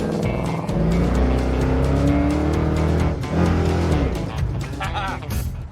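A car with a new 2013 Ford 5.0 engine growls loudly with deep, rumbling revs and a brief tire squeal, under people talking.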